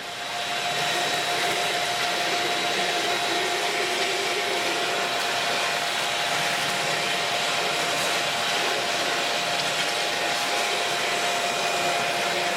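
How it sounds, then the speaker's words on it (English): A shop vacuum runs continuously at close range, a loud, steady motor whine with constant airflow rush and a faint tonal hum, unbroken from start to finish and with no talking. "Let me grab the shop vac."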